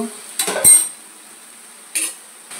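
A metal pot lid lifted off a pot while potato curry with herbs cooks, giving a clattering clink, then another brief metallic knock about a second and a half later.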